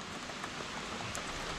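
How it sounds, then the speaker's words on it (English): Heavy tropical rain pours down around a parked car, a dense, even hiss of drops on surfaces, steady and close throughout with no voices. "It's starting to piss down in the rain."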